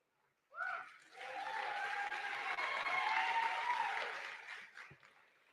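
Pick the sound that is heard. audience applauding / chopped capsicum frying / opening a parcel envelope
audience applauding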